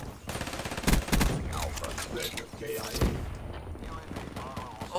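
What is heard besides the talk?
HLX 4 gun firing in video game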